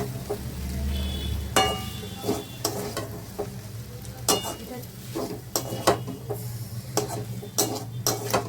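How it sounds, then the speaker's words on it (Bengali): Maggi noodles tossed with spices in a pan on a home stove, a low sizzle running underneath while a utensil scrapes and clinks against the pan in irregular strokes, fairly close and quiet. "ভালো করে ম্যাগিটাকে মিশিয়ে নিতে হবে মশলাগুলোর সাথে।"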